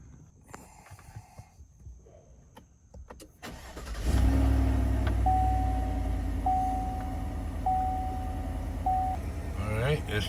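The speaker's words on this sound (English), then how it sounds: "let's see if we get this truck started" A Chevrolet 1500 pickup with a 5.3L V8, 21K miles and error codes P102B/P102F, cranks and fires after a quiet stretch, then settles into a loud, steady idle while a warning chime beeps at regular intervals.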